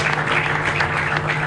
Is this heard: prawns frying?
no